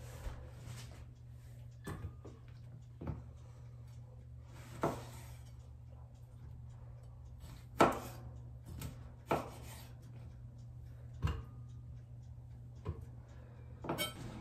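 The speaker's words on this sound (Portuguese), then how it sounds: "Vou cortando e colocando no liquidificador." Several sharp, separate knife chops through oranges on a board at an uneven pace, close by, over a steady low hum.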